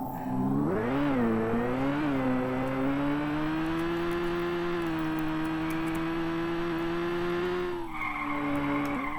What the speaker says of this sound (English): So this is an acceleration sound, and this was the deceleration sound.